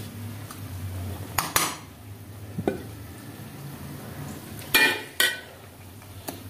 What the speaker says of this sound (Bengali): ওনার জন্যই ভাতটা বাড়ছি আমি।